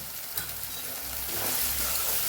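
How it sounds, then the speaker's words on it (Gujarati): Kathiyawadi spring onion and sev curry with buttermilk being stirred and cooked down in hot oil in a pan, a loud, continuous close-up sizzle with no one talking. "જે છાશ ઉમેરી છે એ બધી બળી જાય ને તેલ સરસ સૂકું પડી જાય ત્યાં સુધી આપણે એને સાતડવાનું છે"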